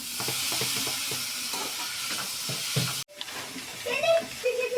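Onions, cumin and tomato frying in a pan for paneer curry, a steady bright sizzle with stirring scrapes, then a short break after which the sizzle returns alongside faint voices in the background.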